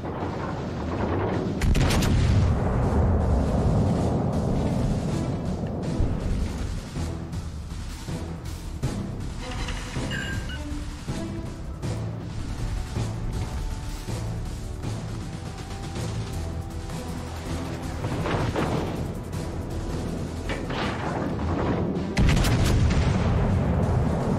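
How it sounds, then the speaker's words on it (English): Warship main guns firing high-explosive shells in World of Warships Legends, heavy booming salvos with sharp cracks and rumbling blasts repeating over about twenty-four seconds, loud and continuous with a brief lull midway. "Let's go ahead and shoot some HE here."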